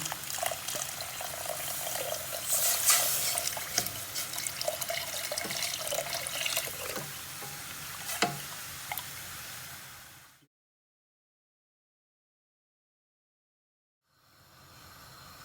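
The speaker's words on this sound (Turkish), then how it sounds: "Şimdi 1 litre kadar suyumuzu eklemeye başlayalım." Water is poured into a pot for mushroom soup, a close steady rushing splash with small bubbling drips for about ten seconds, then silence before a faint return near the end.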